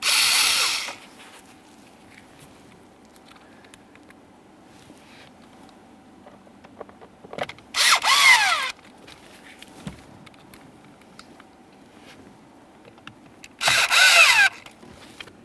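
A power tool runs in three short bursts, tightening the steering column mounting bolts under the dash of a 2015-2020 Ford F-150, each burst loud and close with quiet pauses between.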